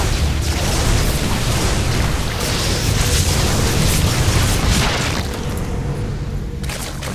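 Phoenix air units attacking in StarCraft II, a dense, continuous roar of blasts and booming impacts that fills the whole stretch without pause, loud and steady with no voices.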